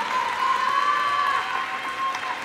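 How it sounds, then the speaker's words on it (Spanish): Mothers at a school Mother's Day festival clap in a dense, steady round of applause that swells and fades slightly, with a sustained tone and murmuring crowd beneath. "Más fuerte ese aplauso, mamitas, que nos ha enternecido el corazón"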